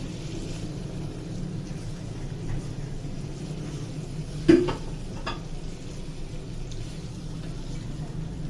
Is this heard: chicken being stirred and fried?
yes